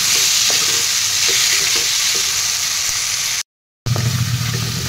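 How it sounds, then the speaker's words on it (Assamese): Chicken curry meat frying and being stirred in a pan, a loud continuous sizzle with repeated scraping strokes of the spoon, briefly cut off and resuming. "ইয়াতে এতিয়া মই মাংসখিনি বহুৱাই দি দিম গোটেইখিনি দি দিছোঁ দি এনেদৰে তৰতৰ কৰি লৰাই দিম"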